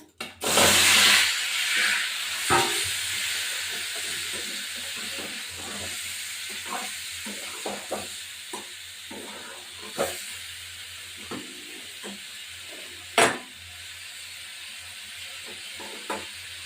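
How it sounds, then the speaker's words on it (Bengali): Duck eggs and potatoes frying in oil in a pan, a loud initial burst of hissing as they go in, settling into a steady sizzle with scattered pops and crackles, no voices. "তেল দিয়ে এখন আমি এই ডিম আর আলুগুলো ভেজে নেব।"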